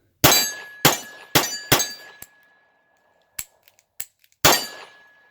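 Grand Power Xtrim pistol dry-firing or misfiring with light firing pin strikes, five sharp metallic clacks in quick succession followed by a few faint ticks and one final clack, close and loud.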